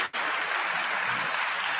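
Broad, steady applause from a town hall audience, a dense even wash of clapping that starts abruptly and holds at moderate loudness without voices over it.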